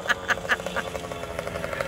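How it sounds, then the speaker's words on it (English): Muscovy duck quacking on a moped outing, a run of short repeated calls at a steady rhythm, close and moderately loud over a constant engine drone. "That is a Muscovy duck."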